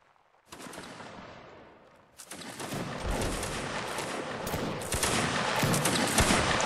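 A crackling musket volley from a line of troops in Mount and Blade Warband: Napoleonic Wars rolls out as a dense, sustained burst of overlapping shots, loud and swelling toward the end.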